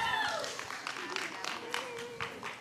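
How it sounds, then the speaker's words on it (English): Scattered applause from a crowd, moderately loud and steady throughout, with a voice speaking over the clapping. "I just want to give a round of applause for Jesus playing the drums tonight."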